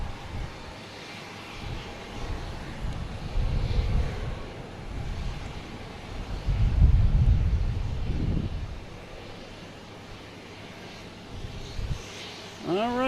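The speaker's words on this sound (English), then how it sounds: "next to come in, we have JetBlue and A321 coming in from LAX" A JetBlue Airbus A321 airliner coming in to land at Boston Logan from LAX, a moderate, distant rumbling engine roar that swells twice and then eases off, with faint outdoor background noise.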